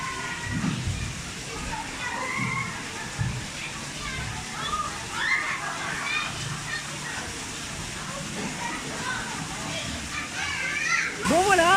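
A waterfall at the Efteling theme park gives off a steady, broad rush of falling water. The noise of a park crowd and children's voices mixes in under it throughout.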